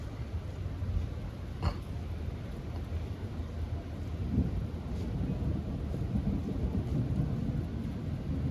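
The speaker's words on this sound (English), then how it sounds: "Just a plain old regular thunderstorm with a lot of lightning." A thunderstorm with heavy lightning gives a sharp thunder crack early on, then a low rolling rumble under a steady wash of rain.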